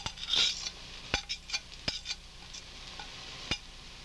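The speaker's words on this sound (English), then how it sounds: "Okay, we stick the peppers in. Stir them around." Peppers go into a pan and are stirred with a utensil, producing a series of sharp metallic clinks and scrapes at irregular intervals over a faint background, close by with no talking.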